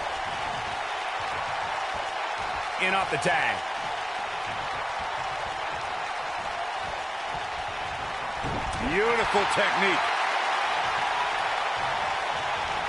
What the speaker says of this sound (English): I don't remember the last time I heard a more passionate crowd than one we have here tonight